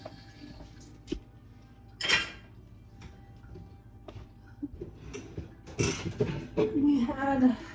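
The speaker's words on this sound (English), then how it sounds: "Need to put away the dishes from last night." Dishes from last night's dinner are put away in a home kitchen: scattered clinks of plates and cutlery, a few sharp clatters and a louder rattle near the end, all fairly close amid quiet room noise.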